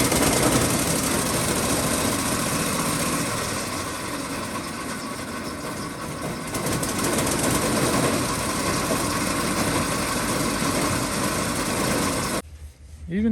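An old Ford Model T roadster engine, its carburetor freshly cleaned, runs with a loud, steady rattling chug that continues for several seconds before cutting off abruptly near the end.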